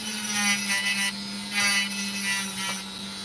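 A small saw grinds through an opal stone with a steady motorized hum and a gritty, rasping cut whose intensity swells and eases in a few pulses. It is close, loud and continuous, with no talking.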